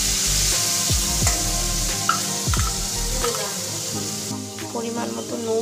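Bay leaves and black cumin frying in hot oil in a pan, a continuous crackling sizzle with occasional stirring knocks and scrapes, a voice speaking briefly over it.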